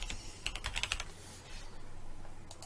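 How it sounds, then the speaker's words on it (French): Keyboard shortcuts are typed on a computer keyboard: a quick cluster of crisp key clicks near the start, then sparse taps over a low background hiss. "j'appuie sur la touche SUP et sur CTRL V"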